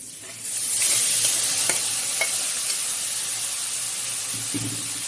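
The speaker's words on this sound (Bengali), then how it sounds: "এরকম একটু একটু লাল হলেই আমি এর মধ্যে হচ্ছে শাকটা দিয়ে দিব।" Bathua greens tossed into sizzling, lightly browned fried garlic in a pan and stirred: the frying hiss swells loudly as the leaves go in, then holds as a steady close sizzle with faint scraping.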